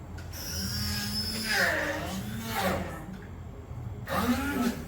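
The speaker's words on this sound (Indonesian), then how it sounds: "kita mau blender ya teman-teman. Kita coba yang sedang dulu kecepatannya" A blender whirs continuously up close at medium speed making avocado and banana juice, its pitch rising and falling as the load shifts.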